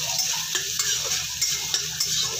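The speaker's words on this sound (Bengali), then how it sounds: "পনিরটা দিলাম, পনিরটা ভেজে নেব আগে।" Paneer pieces frying in a pan, a steady oil sizzle with a spatula scraping and tapping the pan several times, close and clear with no talking.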